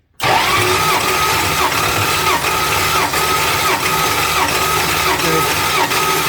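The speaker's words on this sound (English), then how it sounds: "ignition and the carburetor is just dumping fuel" An old Mopar Road Runner engine, left sitting for 20 years, catches after a silent moment and settles at once into a loud, steady, slightly uneven idle that runs on close by without a break.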